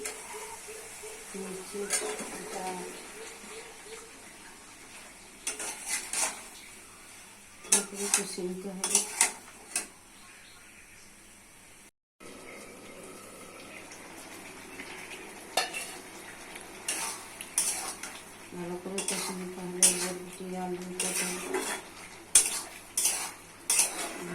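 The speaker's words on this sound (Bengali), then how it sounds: "শসা বাটা দিয়ে মশলা ভালো করে কষে নিতে হবে" A metal spoon scrapes and clatters against a pan while spice paste and ground cucumber paste are stirred and fried, bursts of stirring alternating with quieter sizzling, close and moderately loud.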